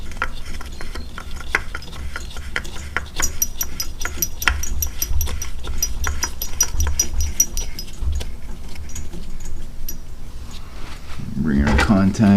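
Ratchet work on the low oil switch of a 2007 Yamaha V-Star 1300 motorcycle: rapid rasping clicks in short bursts, close to the microphone, with scraping and handling noises and a louder clatter near the end.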